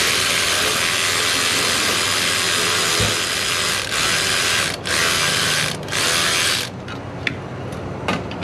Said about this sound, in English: Loosen the clamp off.